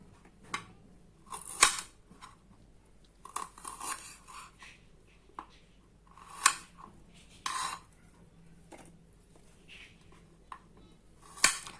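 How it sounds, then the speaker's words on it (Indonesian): A knife chops ingredients for carp pepes on a cutting board, sharp irregular taps and clicks with quiet gaps between them, close and fairly soft. "Kita teruskan memotongnya."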